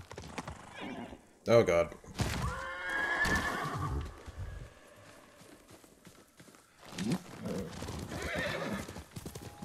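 Horse neighs and clattering hooves in the Ghost of Tsushima video game, with a sharp whinny burst early and bouts of hoofbeats, while a man mutters over it.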